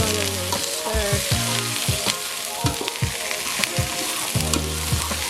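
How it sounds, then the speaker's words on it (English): Food being stirred in a pan with a little oil for plant-based homemade ravioli gives a steady close sizzle with soft scraping strokes, under a continuous low melodic hum. "so then we're gonna stir"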